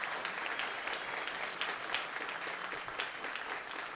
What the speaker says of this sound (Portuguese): eu peço a todos vocês uma salva de palmas ao nosso secretário de Turismo, Luciano Bartolomeu